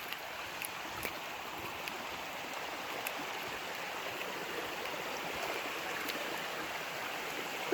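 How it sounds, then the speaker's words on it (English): Steady broadband rush of a stream flowing near a small waterfall along a forest trail in a Monroe County preserve, continuous and fairly close, with faint splashes and no voices. "Listen to that water."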